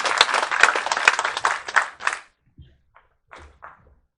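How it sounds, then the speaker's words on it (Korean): Applause from an audience at a provincial government event, a burst of clapping that thins out after two seconds, followed by a few scattered claps and faint thumps. "박수 한번 쳐주세요"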